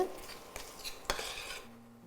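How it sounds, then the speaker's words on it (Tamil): A spoon stirs a ground onion and tomato masala sautéing in oil in a pan for a South Indian veg prawn thokku, giving a few close scrapes and knocks against the pan over a soft background sizzle. "நல்லா மசாலா எல்லாமே எண்ணெயில் வதங்கிருச்சு"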